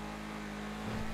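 A vehicle engine hums and revs in a GTA roleplay game, a steady droning tone that rises slightly in pitch near the end, fairly quiet and continuous.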